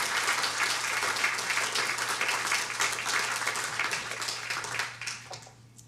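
A lecture audience claps to welcome the speaker at a professorial lecture, sustained dense applause that holds steady, then thins and fades out over the last second.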